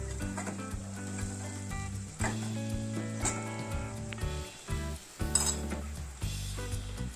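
Poha being sautéed and stirred in a pan, with scraping and clinking of a utensil against the pan under a sustained tonal background of music, with faint sizzling beneath.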